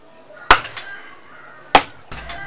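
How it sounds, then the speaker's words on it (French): A zebu horn is struck against a stone, giving two sharp, loud knocks about a second apart, each with a brief ringing tail, followed by a softer thud near the end, with faint room noise between. "on va taper sur la pierre"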